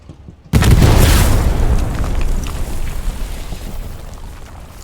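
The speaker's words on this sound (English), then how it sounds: "So that almost completely destroyed this tank from a proximity death with a satchel charge." A satchel charge detonating close to a tank in the game Hell Let Loose: one sudden loud boom that opens into a long, heavy rumbling roar and slowly fades, with no voices.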